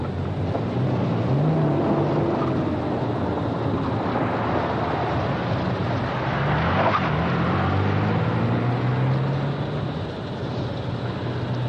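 A BMW car driving on a dirt road, heard as a constant engine drone with shifting pitch, rumbling road noise and wind buffeting on the microphone. The sound stays steady and fairly loud, with no talk.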